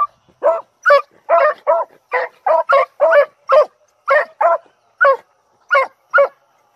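Several beagles bark outdoors in a field, about fifteen loud, clipped barks in an uneven but steady run, close by and with no voices.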